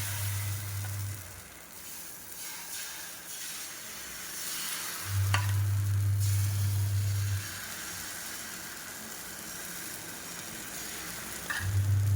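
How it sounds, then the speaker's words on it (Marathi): Dhirde batter poured onto an oiled hot pan hisses with a steady, close sizzle that runs throughout at an even level, with a low hum in the background. "छानपैकी आपण तेल लावून घेतलेले आहे आणि आपले हे बॅटर, धिरड्याचे बॅटर आपण सोडून घेणार आहोत."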